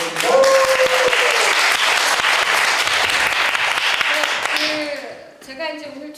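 Audience applause at a small community concert before a soprano sings: loud, dense clapping from a seated crowd that holds steady for about five seconds, then fades as a voice begins speaking.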